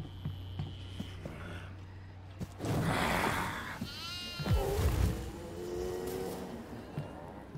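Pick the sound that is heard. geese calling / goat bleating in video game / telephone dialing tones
goat bleating in video game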